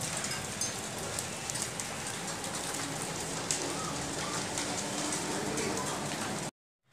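Small hailstones and rain fall steadily under a black storm sky, a dense continuous patter close by for about six and a half seconds before cutting off, with faint bird cooing in the background.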